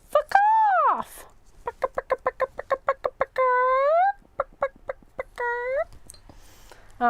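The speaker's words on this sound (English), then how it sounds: "Oh my God, I love the little chickens so much." Small chickens cluck close by in a rapid series of short clucks, broken by longer drawn-out calls, loud and clear with no talking over them.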